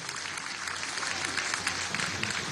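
An audience at the inauguration of a people's clinic claps in steady, dense applause, moderately loud and sustained throughout without a break.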